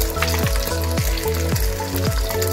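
Beaten egg seasoned with pepper and salt sizzling loudly in a hot pan for chicken fried rice, a constant close frying hiss with stirring strokes recurring about every half second.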